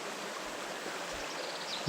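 Shallow river water rushes steadily over rocks, a close, even hiss of flowing water that continues without break, with a brief louder splash right at the end.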